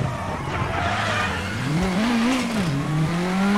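Rally car engine in WRC 9, a loud, close engine note that rises and falls as the car revs and shifts, with tire noise under it and no talking.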